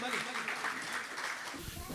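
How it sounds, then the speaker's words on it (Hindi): An audience at a tribute gathering applauds to welcome a speaker, a short burst of clapping heard faintly at a distance, mixed with low crowd noise. "भरपूर तालियों में इस्तकबाल कीजिए"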